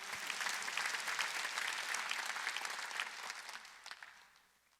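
A church congregation claps together during a Sunday worship service, a dense steady wash of applause that holds strong and then thins out toward the end.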